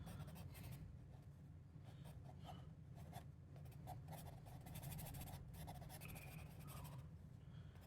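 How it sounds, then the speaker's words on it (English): A pencil sketches on sketchbook paper with soft, close scratching strokes in short bursts and pauses, faint and intimate, as coastal rock formations are drawn. "I don't have this pencil very sharp"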